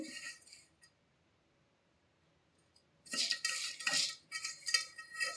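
Spoon clattering and scraping against a bowl while mixing fenugreek fritter (methi bhajiya) batter with gram flour, coriander and ginger, a cluster of close clinks and scrapes after a few seconds of near silence.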